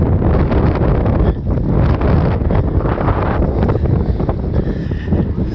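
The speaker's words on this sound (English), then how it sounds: "There's the wind." Strong wind buffets the microphone outdoors at the 2022 Arvada Kite Festival, a loud, continuous rumbling roar with gusty surges that never let up.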